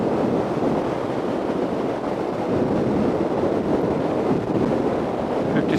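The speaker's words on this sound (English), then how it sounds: "It is a bit blowy today" Wind roars steadily across the microphone during a test ride on a 2018 Peugeot Belville 125 scooter at around 55 mph on a blowy day, a loud continuous buffeting rush with no speech.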